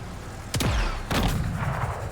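Two heavy gun blasts from a turret in a video game, each a loud booming shot with a long rumbling decay, spaced about half a second apart with no talking.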